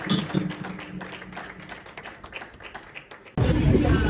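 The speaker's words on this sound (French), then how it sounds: "Applaudissements, s'il vous plaît." At a book launch for a public procurement law title, a crowd breaks into applause after a stretch of light tapping, the clapping sudden, dense and loud.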